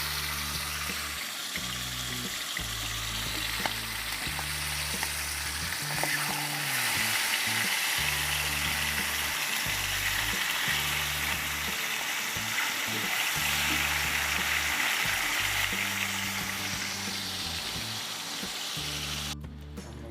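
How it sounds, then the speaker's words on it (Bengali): Pangas fish fries in oil in a pan over medium-low heat, a steady close sizzle running throughout with no talking, under a quiet repeating low background music. "এখন আমি মিডিয়াম স্লো আঁচে মাছটাকে ভেজে নিচ্ছি।"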